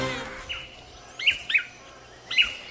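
Manakins in a tropical rainforest give short, high chirping calls, three or four brief notes scattered over a few seconds against a quiet forest background, fairly close.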